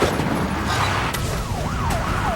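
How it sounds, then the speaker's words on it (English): Police siren wailing with rising and falling sweeps over steady road noise from a chase in Ohio, moderately loud and without talk. "Lights and sirens mean everyone else clear a path for him."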